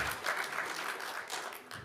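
Brief, faint applause from the audience at a Kern County Planning Commission meeting, a soft, steady patter of clapping heard from a distance.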